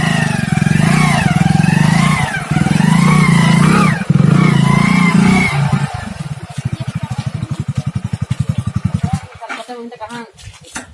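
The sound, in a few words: motor vehicle engine revving and driving off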